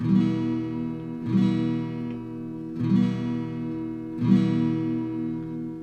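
Guitar chords are strummed one after another in four steady downstrokes, each left to ring before the next, close and clear with no talking.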